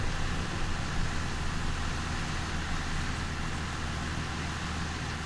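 Tractor engine in the Farming Simulator 2015 video game, a steady loud droning motor with a low rumble and broad noise as the machine drives along, without any talk.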